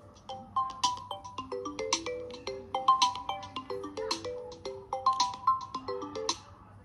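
A phone ringtone plays while a call is being placed: a repeating synthetic melody of short bright notes in a quick rhythm, fairly close and steady throughout, with no talking.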